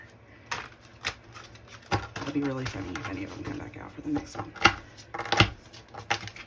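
Tarot cards are shuffled by hand in sharp, irregular riffles and slaps. A quiet voice speaks over them.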